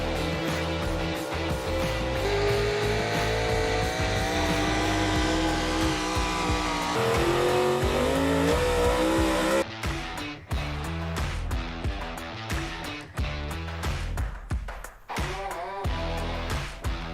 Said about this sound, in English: today we have the big block, high output four-wheel drive trucks at Weakland's Mechanic Shop